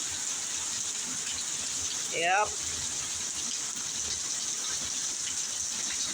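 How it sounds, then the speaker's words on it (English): Heavy rain pours down steadily around a porch in a dense, continuous wash of noise, with a single short spoken word heard once over the downpour. "I'm standing on my porch right now, watching the rain coming down."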